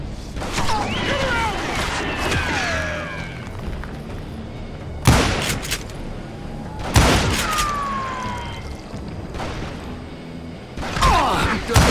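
Gunfire and booming shots ring out in the Western shooter Call of Juarez: Gunslinger, several loud sharp blasts spaced seconds apart over a busy game soundtrack with whistling, descending tones.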